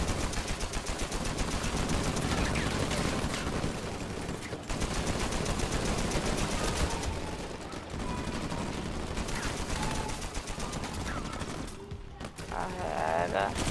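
Rapid gunfire crackles through a chaotic shootout in the video game Uncharted 4, bursts of shots and explosions piling up densely and loudly, with a voice talking over the din.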